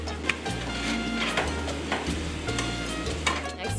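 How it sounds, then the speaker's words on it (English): Ground beef browns in a pot with a steady, close sizzle, broken by periodic scraping and knocking as it is stirred, with no one talking. "You will want to start off by browning the ground beef."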